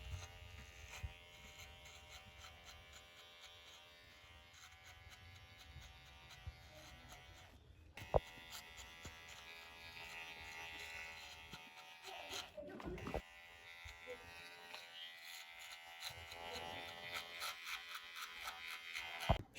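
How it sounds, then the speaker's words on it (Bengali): An electric hair clipper buzzes steadily and close while cutting a child's hair, humming continuously with brief pauses and small clicks, alongside some quiet background voices. "সবই তো দেখলেন যে কিভাবে মেশিন দিয়ে চুল কাটলাম যেভাবে।"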